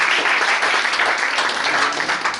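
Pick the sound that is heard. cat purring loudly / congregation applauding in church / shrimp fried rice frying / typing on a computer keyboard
congregation applauding in church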